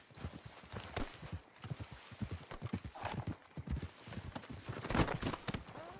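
Irregular hoof clops patter steadily for several seconds, a horse moving at a walk over hard ground with some background clatter, in the video game Red Dead Redemption 2.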